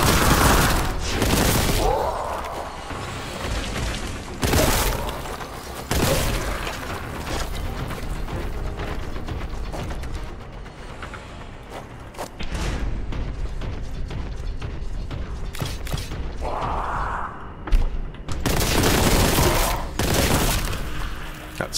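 Grav cannon gunfire in the shooter Warhammer 40k Boltgun, a loud, sustained barrage of heavy blasts and mechanical clatter with repeated bursts over about twenty seconds, no talking.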